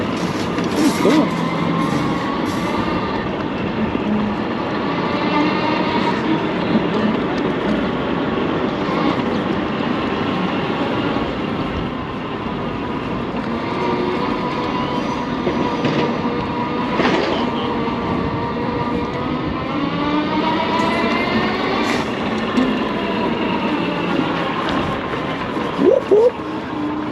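A UBCO 2x2 all-wheel-drive electric bike riding on a road in Portland gives off a steady, loud whining hum with shifting tonal pitch that rises and falls throughout the ride.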